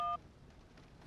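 Cell phone dialing tones in an adventure video game: a brief pair of steady beeping tones at the very start, then quiet game ambience.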